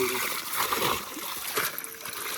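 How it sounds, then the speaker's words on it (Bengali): Water splashes repeatedly onto fish in a pond, a scattered, close splattering with sloshing bursts across the clip and a voice talking over it. "এখন জল মারা হচ্ছে, জল মেরে মাছটাকে একটু শক্ত করা হচ্ছে।"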